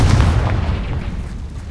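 Confringo fire spell explosion in the video game Hogwarts Legacy: a loud, heavy boom at the start that rumbles and decays over the following second and a half, with no talk.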